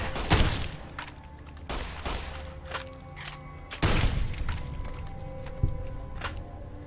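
Single shotgun firing in Fallout: New Vegas, several loud booming shots spaced irregularly, each followed by a ringing tail, with mechanical clicks between them.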